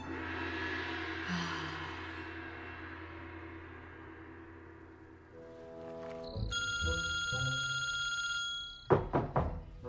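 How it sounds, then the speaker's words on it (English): A mobile phone rings in a chiming, tonal burst partway through, layered over a film scene's ongoing music and background sound, followed by a few soft thumps near the end. "Yo, Jacko, your phone kept ringing, so I answered it."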